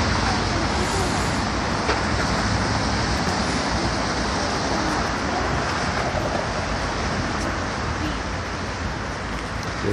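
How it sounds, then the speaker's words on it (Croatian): A yellow city bus passes along Independence Avenue in Minsk amid continuous traffic roar, a steady broad wash of road noise with someone talking over it. "Evo sada prođe. Evo je autobus."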